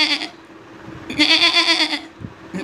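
A person's voice imitates a goat bleating, with two loud wavering bleats, a short one at the start and a longer one in the middle, followed by a brief tail, performed alone without other talk.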